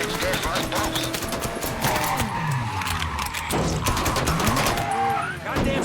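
Rapid bursts of gunfire from the video game Mafia 3, loud and dense across the whole stretch, mixed with vehicle skids and engine noise.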